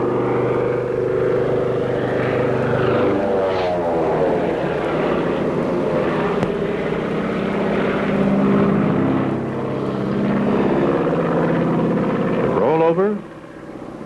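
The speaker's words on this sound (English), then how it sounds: "Here, Doc Draper climbs into the cockpit of a stunt plane to experience the phenomena of the loop." A propeller-driven stunt plane flying a loop, its engine droning loud and steady with the pitch sweeping up and down through the manoeuvre, under a narrator's voice.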